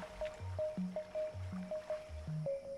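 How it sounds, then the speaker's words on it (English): Water rising in the video game The Unfinished Swan, heard as a repeating pattern of soft, squishy gurgles and low watery pulses in a steady rhythm, fairly quiet and without voices. "there's water rising"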